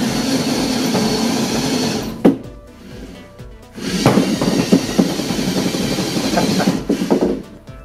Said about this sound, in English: I'm going to do a quick little test to see if I can drive from the floor to the wall